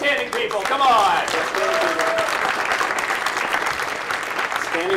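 Audience applause at a PAX gaming convention panel, a dense wash of clapping from a large crowd that stays loud and steady throughout, with some voices and cheers mixed in.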